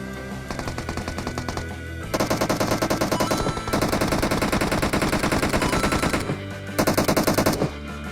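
Rapid automatic M4 rifle fire in the shooter game PUBG Mobile, several loud sustained bursts separated by brief pauses, with no talk over the shots.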